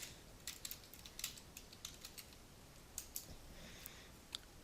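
Quiet typing on a computer keyboard, a short burst of light, irregular key clicks, some clustered and some isolated, heard alone against a low background hiss.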